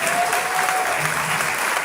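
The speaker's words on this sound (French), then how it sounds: "On applaudit." Brief, dense burst of audience applause at a political meeting, steady and fairly loud through its short length.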